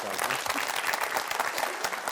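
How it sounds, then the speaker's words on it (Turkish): An audience claps together in a steady, rhythmic burst, close and moderately loud, without a break. "Bir alkış rica ediyorum"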